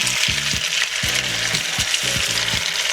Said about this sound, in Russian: будем жарить котлетки